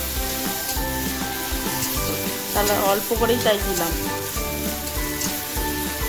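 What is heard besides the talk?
onion and tomato frying in oil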